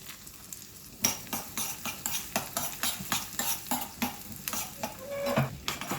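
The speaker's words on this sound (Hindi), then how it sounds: "अब मैं आलमंड को इसमें फ्राई कर दूंगी।" Almonds frying in ghee in a pan for carrot halwa, sizzling under a rhythmic run of metal spoon scrapes and clinks against the pan, close and distinct, no talking.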